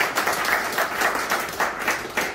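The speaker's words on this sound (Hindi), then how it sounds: "एक बार सर के लिए ताली बजाई इनके कॉन्फिडेंस के लिए" Audience at a talk-style event bursts into applause, a dense, even wash of many hands clapping together, moderately loud and steady across the short stretch with no voices on top.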